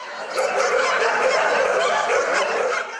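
Many dogs at a municipal animal care and treatment center bark and yip at once in a dense, continuous chorus, loud and close, overlapping with no pauses.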